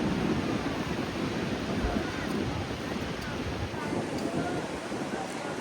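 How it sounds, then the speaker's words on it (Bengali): Cool wind sweeps along the Mandarmani seaside after rain, a steady, close, broadband rush of air mixed with surf that keeps up throughout without pause. "একটা ঠান্ডা ঠান্ডা হাওয়া দিচ্ছে"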